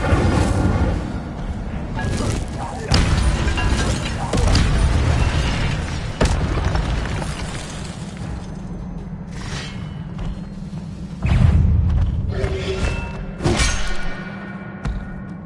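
An Incendio fire spell is cast again and again in a Hogwarts video game, each a loud, close, booming burst over a constant rumbling bed.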